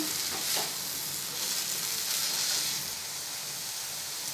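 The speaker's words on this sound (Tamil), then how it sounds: "கொத்தமல்லியும் புதினாவும் பார்த்தீங்கன்னா வதங்கி வந்துடுச்சுன்னா கொஞ்சமாக ஆகிடும்" Coriander and mint sautéing in a pan for a chutney, giving a steady, close sizzle and hiss with gentle swells as the greens are stirred.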